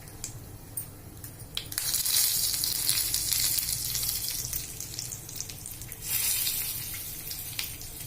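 Curry leaves hit hot oil already seasoned with a pinch of asafoetida and turmeric, for a Marathi chivai leafy-vegetable dish, giving a sudden loud, crackling sizzle that swells and holds steadily close by, with no voices.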